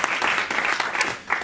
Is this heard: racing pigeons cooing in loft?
no